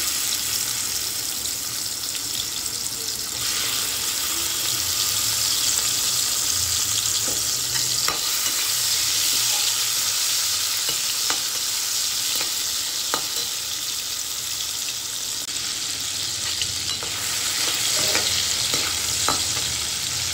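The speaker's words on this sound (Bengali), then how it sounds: "এবার এই তেলেই আমি চিংড়ি মাছটা ভালো করে ভেজে নেব।" Prawns fry in hot oil with a continuous, even sizzle, softened by distance and interrupted now and then by light clicks and scrapes of stirring.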